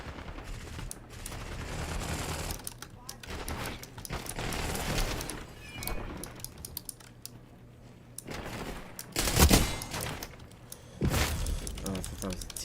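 Submachine gun fire in a video game, sounding as scattered bursts and sharp volleys over a busy game soundscape, with a loud cluster near the end and talk along the way.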